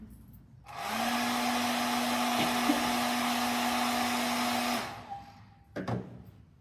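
A hair dryer drying a watercolour painting switches on and blows with a steady whirring roar for about four seconds, then cuts off, followed by a brief clatter.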